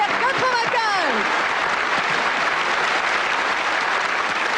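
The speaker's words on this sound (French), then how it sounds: "Applaudissez-les. Bravo." Audience at a Bobino fashion show on a French radio comedy programme applauds steadily, a dense close wash of clapping throughout, with a brief voice speaking over the opening second.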